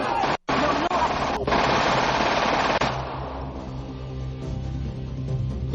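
Blank rounds fired in a 1985 action film scene come as loud, close, rapid automatic bursts that cut out abruptly, then a rumbling tail with a voice in the mix.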